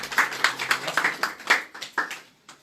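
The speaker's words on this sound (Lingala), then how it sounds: "Est-ce qu'on peut acclamer pour les rois des rois?" A church congregation claps in a quick, steady rhythm of close, sharp hand claps that fades after a couple of seconds, with a faint voice briefly underneath.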